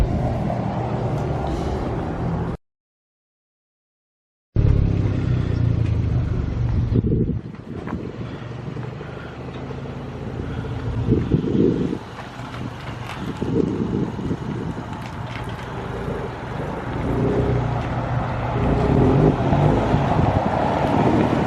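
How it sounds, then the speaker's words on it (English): The exhaust of a lowered car rumbles low and throaty with wind buffeting the microphone, the engine note rising and falling as it drives, with a brief silent gap. "like the sound of the exhaust. I really do. I like this exhaust"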